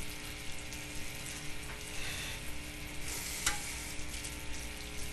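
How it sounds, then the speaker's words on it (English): A steady, even sizzle of jerk duck breast frying in a hot pan over relatively low heat fills the whole stretch, with a brief scrape partway through. "So we got a nice sizzle going."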